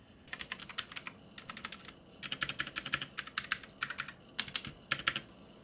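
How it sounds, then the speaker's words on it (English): Bursts of clicky, tactile keystrokes from a Hermes M5 mechanical keyboard with Gamdias blue switches, typed in quick rhythmic runs with short pauses between them, close and fairly quiet, with no voices. "They're tactile and they sound great."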